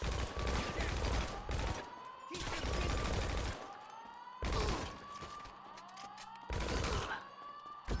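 Gunfire in GTA V Online during a mission attack on an IAA auto shop, loud repeated bursts of shots separated by short gaps, with wailing siren-like tones sweeping beneath.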